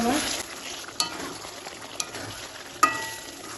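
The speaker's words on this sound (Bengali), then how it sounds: "চিকেনটা একটু নেড়ে চেড়ে দেবো।" Chicken for chicken do pyaza stirred in a covered pan, a steady soft sizzle with scraping and three sharp utensil knocks against the pan over a few seconds.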